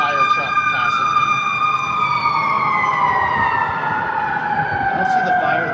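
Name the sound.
fire truck siren passing by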